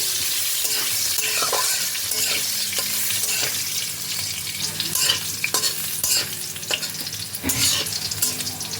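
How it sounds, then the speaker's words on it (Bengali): Diced potatoes fry lightly in hot oil in a pan, giving a continuous close sizzle with scraping stirs and occasional clatters and no talking. "ডুমো ডুমো করে কেটে রাখা আলু আলুগুলোকেও এবার হালকা ফ্রাই করে নিতে হবে"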